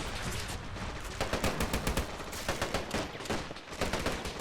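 Rapid bursts of Vickers machine gun fire mixed with rifle shots crackle in a video game battle with British infantry, dense repeated reports at moderate distance, with no talk.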